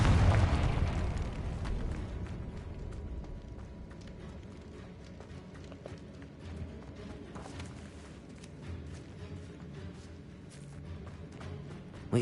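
A Confringo blasting spell explodes in Hogwarts Legacy with a single loud boom at the start, then fades into a low rumbling tail and softer crackling debris over a steady background.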